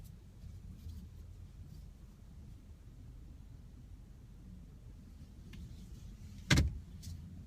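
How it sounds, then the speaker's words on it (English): A 2015 Honda CR-V Touring drives along with a low, steady road and engine hum, quiet throughout apart from a single sharp thump near the end. "We're going for a ride in the new 2015 Honda CR-V Touring."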